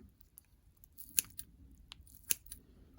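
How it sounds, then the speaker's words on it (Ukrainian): Two sharp snipping cuts stand out against quiet background as wood blewit mushroom caps are cut into pieces, with a few softer clicks and taps in between, close and fairly faint. "Шапинки я тепер хочу розрізати на зручні шматочки."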